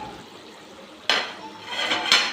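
Metal pot lid set onto a pan of coconut chicken curry, two sharp clanks about a second apart, close and clear against a quiet background.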